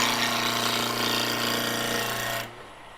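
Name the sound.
wood lathe cutting scrap wood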